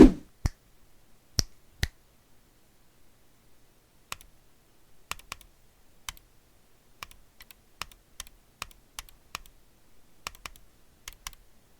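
Sharp switch clicks from a Rakk Dasig wireless gaming mouse, first a few scattered single presses, then a steady run of crisp, close clicks at an even pace with no talking.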